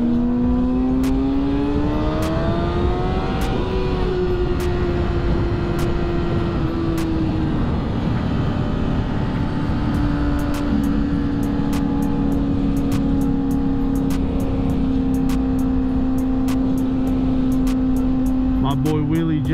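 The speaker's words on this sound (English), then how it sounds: "Let's watch my man get some wheelies going." A Mustang 5.0 revving and accelerating while pulling wheelies, its engine note climbing and holding in long steady tones, with sharp clicks and a whirring drone running through.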